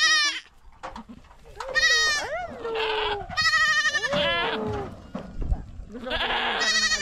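Goats bleating on a rural farm in the Philippine countryside, several loud wavering calls close by, overlapping in bursts across the stretch with people talking among them.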